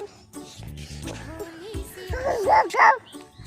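A young child imitates a dog barking with a few short, rising, yelping woofs, close and loud, after a brief stretch of quieter speech.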